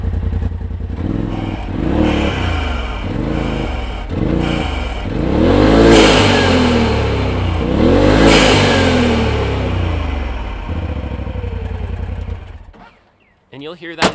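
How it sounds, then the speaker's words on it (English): Turbocharged Polaris RZR XP engine revving repeatedly in a series of surging throttle blips with a whooshing blow-off valve release, loud and close, before dropping to idle and cutting off. "opening the valve up to the atmosphere gives you this kind of a sound"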